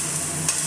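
Capsicum hits a hot pan for pasta and fries with a brief, close, steady sizzle and a faint stirring scrape.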